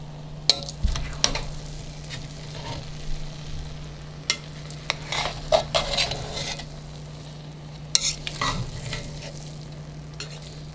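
Lamb and rice plov in a pot is stirred and mixed, with repeated scraping and clinking of a utensil against the pot over a soft steady sizzle.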